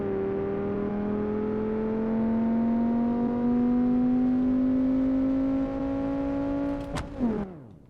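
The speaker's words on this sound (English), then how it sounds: "now we are going to run the tuned Jetta versus the turbo Jetta and see how much faster the turbo Jetta is." A tuned VW Mk6 Jetta and a turbo Jetta drag racing in the BeamNG Drive video game, one steady engine drone whose pitch climbs slowly through a long pull, then a sharp click and a quick drop near the end.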